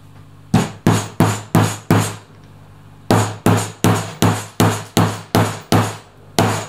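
An upholsterer's strap stretcher part being driven in with a hammer, sharp loud close blows in two runs, five strikes then a pause and nine more at an even rhythm.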